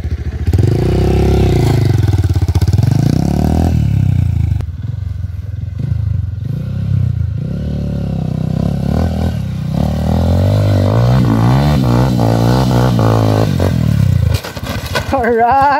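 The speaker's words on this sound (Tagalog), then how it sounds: "Umaandar pa yung motor." A trail motorcycle engine runs and revs loudly up close, its pitch rising and falling in repeated surges with some clattering, while people talk over it.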